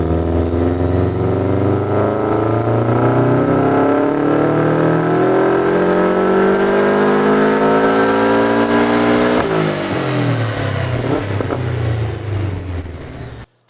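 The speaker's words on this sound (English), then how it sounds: "this is unequal length headers on a VA STI" Subaru VA STI boxer engine with unequal length headers revving hard alone, the pitch climbing steadily for several seconds in one long pull before the throttle lifts and the exhaust rumble falls away, loud and close.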